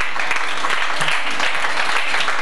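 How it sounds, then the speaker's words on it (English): Applause from a crowd at the Alligator Lounge, a dense, even patter of clapping that holds steady for the whole short stretch. "I'd like to give you a round of applause."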